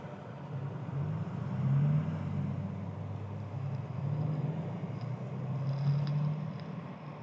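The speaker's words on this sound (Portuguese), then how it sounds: "Momento complicado de trânsito aqui agora." Steady low rumble of road traffic with cars passing, swelling and easing in waves throughout, fairly distant and continuous with no voices.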